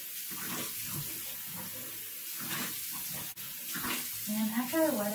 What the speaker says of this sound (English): I'm gonna wet my face with warm water